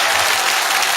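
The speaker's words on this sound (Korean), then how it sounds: "오늘 존경과 공경의 마음으로 여러분과 함께 목사님께 박수를 한번 크게 보내봅니다" A church congregation gives a pastor loud, dense applause, a steady close wash of many hands clapping at once with no break.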